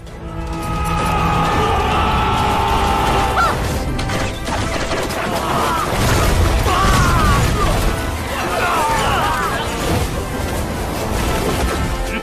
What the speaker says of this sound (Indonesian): Diperlihatkan ribuan anak panah serta bola meriam menghujani pasukan dari Kekaisaran Tiandou.